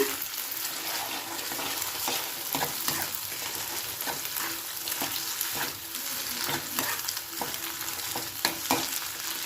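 Scrambled egg being stirred in a hot frying pan, a steady sizzle with repeated scraping strokes of the spatula across the pan, close and continuous with no talking.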